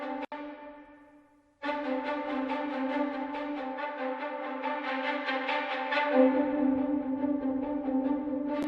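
A boosted EQ band of a signal heard through a headphone monitor, a sustained, tonal, resonant sound with strong harmonics that cuts out briefly, then returns and holds steady, growing slightly louder.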